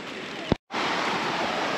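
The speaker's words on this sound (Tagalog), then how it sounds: "Malawak ang ilog dito" A wide river flows past a campsite with a steady, broad rush of water, briefly broken by a short thump and a moment of silence.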